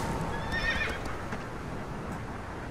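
A horse in the video game Shadow of the Colossus gives one clear, rising whinny early on, over steady outdoor game ambience with soft hoof movement.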